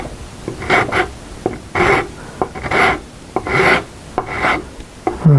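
A fine rasp files a wooden CZ 457 rifle stock in repeated rough rubbing strokes, about eight bursts with short pauses between, close and fairly loud, with no talking.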